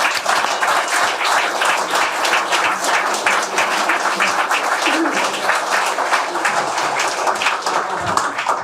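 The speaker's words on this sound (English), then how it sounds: "Just a warm round of applause" A live event audience in Bedford gives a warm round of applause, dense, even clapping that carries on steadily from start to finish.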